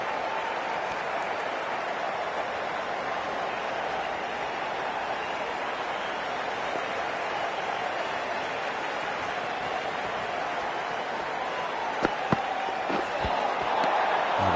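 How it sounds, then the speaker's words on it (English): Crowd applause in a cricket video game, a steady, even wash of clapping and crowd noise running the whole time at moderate level, with a few faint knocks near the end. "Please give him a round of applause."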